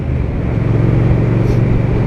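Triumph Speed Twin 1200 motorcycle engine droning steadily on a winter road, a continuous loud low rumble with a slight shift midway as it changes gear.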